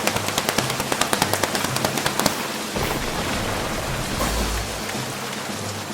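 A children's audience pats their legs to imitate heavy rain, first as rapid, sharp, regular slaps and then as a dense, continuous pattering roar, with no talking.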